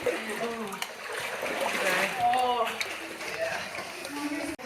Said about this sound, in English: you're essentially going through some pools of water is what's happening here